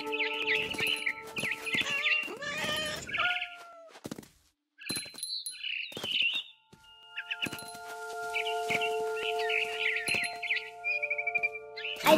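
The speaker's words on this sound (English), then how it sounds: "Then I heard chirping outside my window. It was a barn swallow going back to her nest." A barn swallow chirps outside a window in the video game What Remains of Edith Finch, quick bright tweets in scattered bursts, one brief pause, mixed with meow-like calls and soft game thuds.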